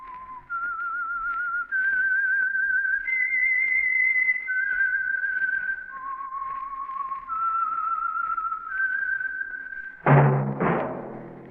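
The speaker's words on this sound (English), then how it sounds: "That whistle is your signal for the Signal Oil Program, The Whistler." A lone person whistles a slow, clear melody of sustained notes as a radio program's signal tune, followed by a brief burst of orchestral music at the end.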